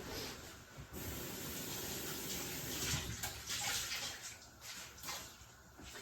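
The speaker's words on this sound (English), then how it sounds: "So I'm going to clean these jars up with just water right now." Tap water runs steadily into glass canning jars being rinsed at a kitchen sink after making zucchini apple pie filling, a continuous close hiss and splash with brief shifts as the jars move under the stream.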